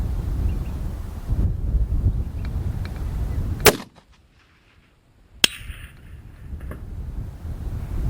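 One sharp rifle shot fired outdoors in gusty, changing wind, cracking loudly over steady wind rumble on the microphone, followed by a brief lull and a second faint impact or report.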